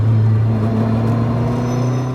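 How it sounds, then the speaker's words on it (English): A road-legal GT Turbo race car running on P1 fuel gives off a loud, close, steady engine drone with a deep rumbling tone, holding level throughout with no talking. "it's a GT Turbo, it's a road legal race car"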